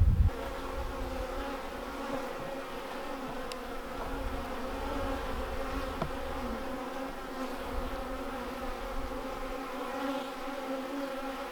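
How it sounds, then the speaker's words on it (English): Honey bees humming steadily around horizontal hives on a sunny, snowy winter day, a continuous soft drone lasting throughout, fairly faint and without voices. "It's exciting to hear them buzz on a sunny winter day in the snow."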